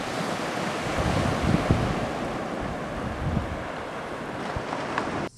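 Ocean surf washes onto a beach in a steady, broad roar, heavily mixed with gusting wind buffeting the microphone, continuous throughout with no voices.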